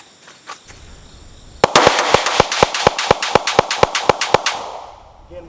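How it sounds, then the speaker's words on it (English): A Sig P365 pistol empties a full magazine downrange in a rapid, evenly spaced string of about fifteen sharp, loud shots, with quiet range ambience before and a fading tail after. "Again, we shot the full capacity of the magazine."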